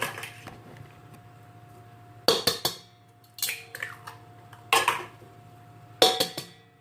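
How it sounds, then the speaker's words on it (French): Four eggs being cracked into a bowl for an orange sponge cake, heard as a series of sharp shell taps and knocks against the bowl's rim in separate bursts, close and clear over a steady background hum. "casser les 4 œufs"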